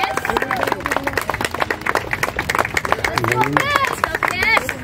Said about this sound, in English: So, huge round of applause for Qais and his hard work.